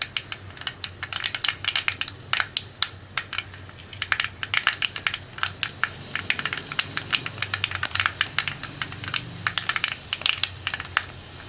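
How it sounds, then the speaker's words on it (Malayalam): Mustard seeds spluttering in hot oil while cooking snake gourd thoran, a dense stream of sharp crackling pops close by with no voices. "ഇപ്പോൾ നമ്മുടെ കടുക് പൊട്ടിക്കൊണ്ടിരിക്കുന്നുണ്ട്"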